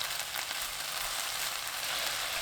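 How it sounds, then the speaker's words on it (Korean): Bean sprouts sit in a pan with cooking oil and mirin over high heat, giving a soft, even, continuous sizzle that stays faint and unchanging throughout. "팬에 식용유 1큰술, 콩나물, 미림 2큰술 넣고 센 불로 켠 뒤 1분간 그대로 둡니다."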